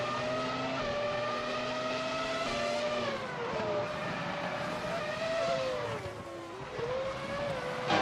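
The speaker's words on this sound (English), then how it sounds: "Project Ashina is driving a Ferrari F1 2000." Simulated Ferrari F1 2000 race car engine in a racing video game, a steady high-pitched whine holding revs with brief dips and climbs as it shifts, loud and continuous with no talk.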